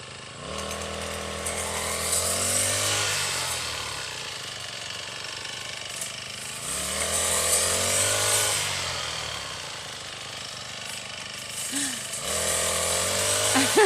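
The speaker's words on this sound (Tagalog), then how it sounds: "Ngayon si Mami naman ang mag-try mag-grass cutter." A grass cutter engine runs steadily in a rice field at harvest, loud and near, its pitch rising and falling in surges as the throttle changes over about fourteen seconds.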